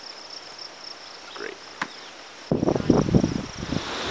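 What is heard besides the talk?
crickets chirping in a field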